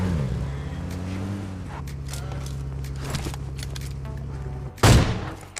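Gunfire in a mobile battle royale shooter: scattered gunshots and clatter over a steady engine-like drone, ending in one loud, sharp close blast near the end.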